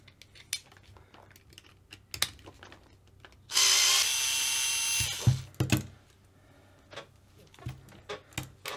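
A power screwdriver removing screws from a Hobao Hyper VS nitro RC car radio tray, one loud whirring burst of about a second and a half amid scattered clicks and taps of small parts handled nearby.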